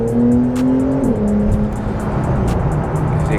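A 2022 Porsche 911 Turbo S accelerates from 2,000 RPM in second gear with turbo lag, its engine droning steadily from inside the car, the pitch dipping briefly before holding a level, sustained tone.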